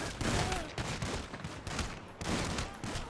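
Gunfire in GTA 5 with an Among Us mod: dense bursts of rapid shots in rolling volleys, loud and close, with brief gaps between barrages and no speech.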